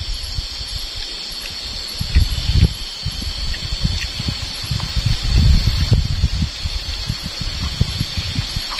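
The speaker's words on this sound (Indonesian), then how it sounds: "Anginnya kencang teman." Strong wind buffets the microphone in low rumbling gusts over a steady high-pitched hiss.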